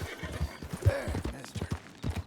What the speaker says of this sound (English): You're a fine horse.